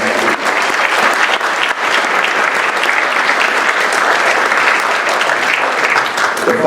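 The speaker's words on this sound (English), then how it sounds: "Let's have a round of applause for those sponsors." A theatre audience at a Harbor Town Players community stage production applauds for the show's sponsors, with dense, steady clapping that stays loud and even throughout.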